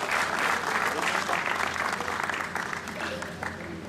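Audience applause at a cricket tournament awards ceremony, as a guest is invited up to present a man of the match award. Dense, steady clapping from a crowd fills the whole stretch, easing slightly toward the end.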